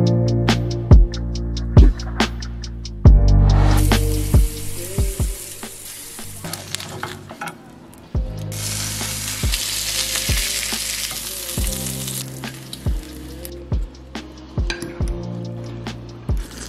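Eggs, bacon and ramen noodles sizzling in a pan, with frequent sharp clinks and scrapes of utensils against cookware over a constant frying hiss.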